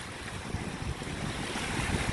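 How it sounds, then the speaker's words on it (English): Big waves rolling in on a Michigan lakeshore make a steady, broadband wash of surf with soft swells, mixed with some wind rumble on the microphone; no voices. "Big waves coming in."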